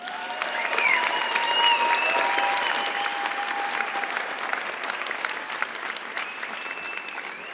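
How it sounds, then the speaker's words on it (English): An audience at a high school equivalency graduation ceremony applauds the student speakers, loud sustained clapping that fills the hall, with faint tones over it, and tapers slightly toward the end. "Let's give all of our student speakers one more round of applause"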